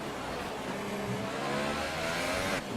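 Formula 1 cars roar in a racing video game, a continuous high engine whine with revving shifts and passing cars, played back quietly without speech.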